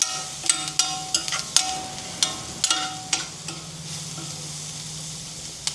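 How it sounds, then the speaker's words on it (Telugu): Onions frying until brown, a soft continuous sizzle punctuated by repeated metallic clinks and scrapes of a spoon stirring against the pan, fairly quiet with no voices. "కొంచెం ఉల్లిపాయ బ్రౌన్ బ్రౌన్ కలర్లో వేగిన దాకా ఉంచి"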